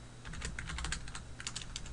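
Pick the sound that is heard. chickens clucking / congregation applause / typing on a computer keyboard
typing on a computer keyboard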